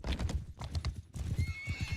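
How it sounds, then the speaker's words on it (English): Cavalry horses in a strategy game gallop with rapid clip-clop hoofbeats and a neigh, loud and up close, with brief pauses between bursts. "Trizoid seems to get hit by 2 horses right now, with B1 harassing the inf."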